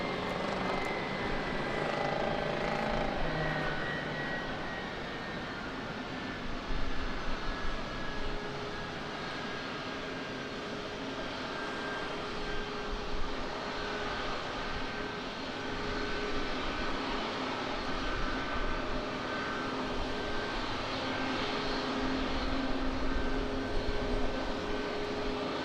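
An American Airlines Airbus A321 jet takes off at San Diego, its engines a steady, broad roar that swells and holds for about twenty-five seconds with no talking.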